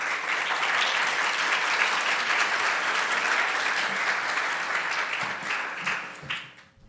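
A conference audience gives a speaker loud, steady applause. The clapping holds throughout, then tapers off near the end.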